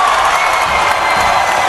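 A men's basketball crowd roars during the 2013 NJAC final between Rutgers Newark and Ramapo. The cheering is loud, close and continuous, with shouts mixed into the steady din.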